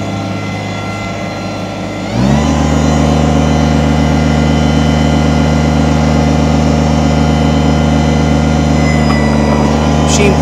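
A 2010 Kubota BX25 sub-compact tractor loader backhoe runs with a steady diesel drone that rises sharply to a louder, harder-working tone after about two seconds and holds there.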